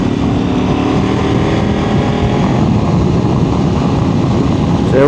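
A KTM 1190 Adventure R motorcycle engine runs steadily and loud up close, a dense continuous drone with no clear breaks.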